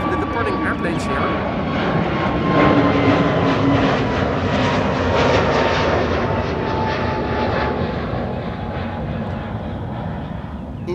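A departing airplane at Amsterdam Schiphol Airport in a south tailwind and crosswind, giving a steady loud engine roar that fills the whole stretch, with a voice talking over it.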